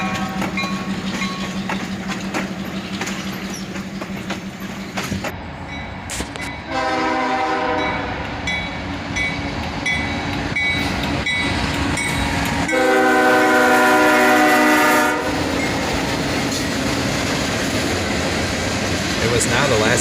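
A freight train passes a road crossing, sounding its horn in repeated long, loud harmonic blasts over a steady rolling rumble and clatter, with a brief low tone near the start.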